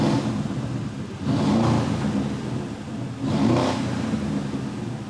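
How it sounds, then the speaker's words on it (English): A Porsche, lowered and switched into sport mode, revs its engine in two rising bursts over a steady idle, loud and close, with no talking. "I'm lowering the car, we're putting it in sport mode."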